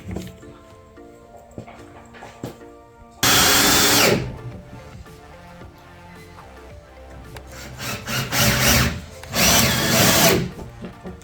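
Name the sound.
drill driving 2.5-inch screws into wood bench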